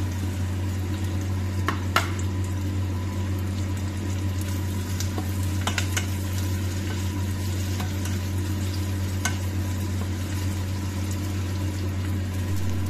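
Hotdogs frying in butter with garlic and onion in a pan, a steady soft sizzle with a low constant hum underneath and a few faint clicks, heard close with no talking.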